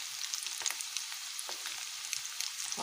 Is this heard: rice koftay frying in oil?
yes